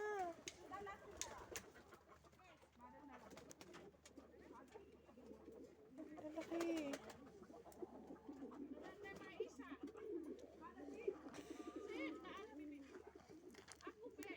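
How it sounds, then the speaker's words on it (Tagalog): Pigeons coo in a low, steady murmur among other birds on a farm, with people talking nearby over constant background noise. "Dito, kalapati pa din. Ang daming kalapati."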